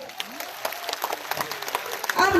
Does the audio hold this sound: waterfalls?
no